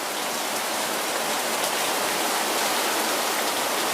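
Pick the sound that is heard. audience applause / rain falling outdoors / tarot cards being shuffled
rain falling outdoors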